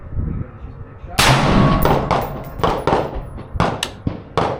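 An MK18 rifle fires a rapid string of sharp, loud gunshots at an outdoor range, about seven reports with uneven gaps between them.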